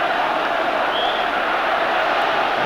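Big crowd in a football stadium during Rangers against Leeds United, a loud, steady roar filling the whole stretch without a break.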